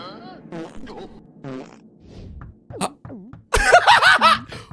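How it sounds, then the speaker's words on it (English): An Among Us character farts in the shower during a cartoon animation, a short rasping blurt among animated voices, followed by a louder burst of laughter and excited talking. "Did this guy just fart in the shower?"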